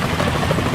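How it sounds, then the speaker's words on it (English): A helicopter in the video game Metal Gear Solid 2 gives a steady, loud rotor roar with dense, broadband thumping throughout a brief moment, alone without voices. "Is that a chopper I just heard?"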